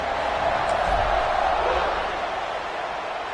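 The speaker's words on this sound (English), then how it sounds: "this crowd is buzzing after that last score" A stadium crowd at a college football game buzzes as a dense, steady roar of many voices just after a score, loud and unbroken throughout.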